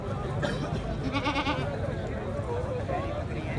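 Goats bleat at a crowded goat market in Memon Goth, wavering calls rising over a steady murmur of people talking and market bustle nearby.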